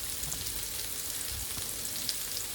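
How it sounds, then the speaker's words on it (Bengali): Chicken chap frying in a small amount of oil, a steady close sizzle with soft crackles and faint stirring throughout, no voices. "সেই মাংসের পুরা পুরা ভাবটা আনতে হলে আপনার অবশ্যই অল্প পরিমাণ তেলে ভাজতে হবে।"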